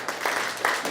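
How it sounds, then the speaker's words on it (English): Audience at a body language show clapping for an audience member, a short dense burst of applause heard alone at moderate loudness, swelling slightly near the end. "Big round of applause for Dan"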